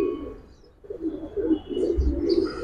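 An army pigeon coos close by in a series of soft, throaty repeated calls that grow stronger toward the end, with no speech.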